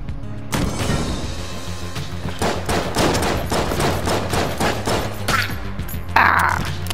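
Rapid volleys from the player's standard gun in the twin-stick shooter Enter the Gungeon, a fast, regular run of punchy shots that pauses briefly midway and ends with a louder burst.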